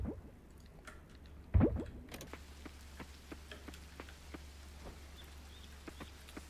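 Soft, steady rain falls with light ticking drops in the farming game Coral Island, with one brief louder thump partway through.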